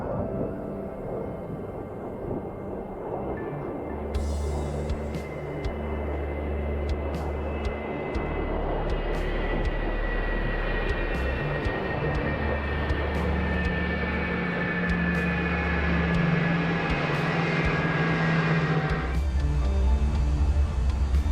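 An F-4 Phantom jet taxiing back to parking, heard as a steady low engine drone with a rising whine and shifting tonal hum, fairly loud and continuous throughout, no voices.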